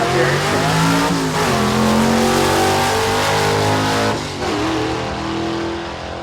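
A cream-colored Chevrolet Nova with a 4-speed manual launches hard down a drag strip, its V8-style engine roaring loud and close, pitch climbing through the gears with a clear drop at a shift around the four-second mark.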